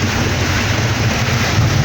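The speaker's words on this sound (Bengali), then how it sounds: "মুষলধারে বৃষ্টি পড়তেছে যাকে বলা যায়" Heavy rain roars in a steady, dense wash of noise, loud and continuous, with a low rumble underneath, heard from inside a moving Scania bus.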